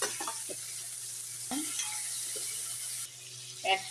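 Chopped tomato and onion frying in a pan make a soft, steady sizzle with scattered clinks and scrapes of stirring, close but quiet.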